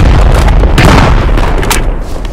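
Grenade explosion in the WWII shooter game Squad 44, a single loud, close, heavy boom that rumbles and crackles out over about two seconds with no talking.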